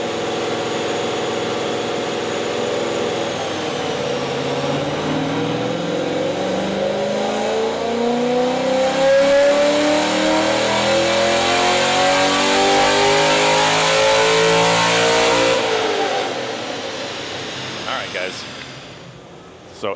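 A 2011 Chevrolet Corvette Grand Sport V8 spins up on a dyno in a shop, its engine note climbing steadily through a long loud pull before dropping back down, with speech mixed in.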